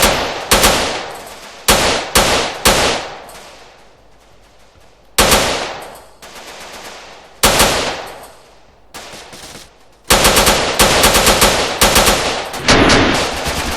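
Repeated automatic gunfire in the GTA Miami Vibe mod comes in loud, sharp bursts separated by short pauses and ends in a dense, rapid volley.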